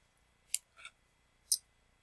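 Scissors cut through muslin fabric in a quiet sewing setting, giving three crisp, separate snips about half a second apart, close and clear against near silence.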